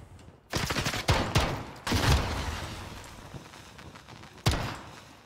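Gunfire in a Modern Warfare one-on-one match, several sharp bursts of shots and thuds in quick succession, fairly close and punchy, with no talking over them.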